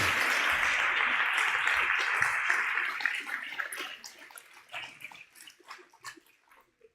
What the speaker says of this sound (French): je crois qu'on peut tous t'applaudir très fort ce soir et te remercier